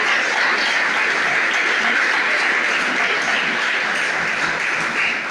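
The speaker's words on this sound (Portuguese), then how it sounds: "Vamos aplaudir ele bem bonito, irmãos." A church congregation applauds, producing a continuous, dense wash of clapping from many people that holds steady and loud throughout.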